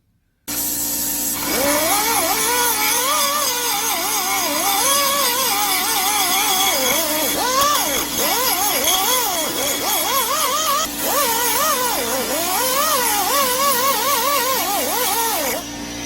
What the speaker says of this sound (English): Just took my angle grinder and took some of that anodizing off.